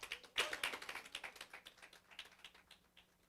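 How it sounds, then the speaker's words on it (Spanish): A church congregation claps hands together in steady rhythmic bursts as an offering of praise, sharp overlapping claps that swell at first and then gradually thin and fade. "Dile una ofrenda de palmas al Señor."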